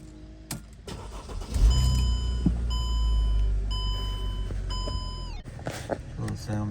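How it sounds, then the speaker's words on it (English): A Mercedes car engine cranks and catches, settling into a steady idle while warning chimes beep in a regular pattern, close by, with a voice speaking partway through before the engine note drops. "Start it up, see what happens."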